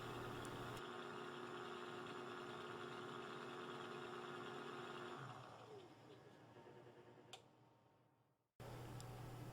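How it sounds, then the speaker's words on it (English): A faceting machine spins a Corian lap at high speed, giving a steady close mechanical whir with a constant hum that winds down and changes pitch, then drops out briefly before the running tone returns. "We just put it on the faceting machine and spin it up to high speed and let it run for 20 or 30 seconds."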